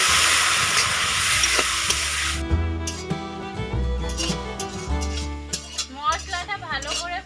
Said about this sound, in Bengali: সামান্য জল দিয়ে মশলাটা ভালো করে কষে নেব।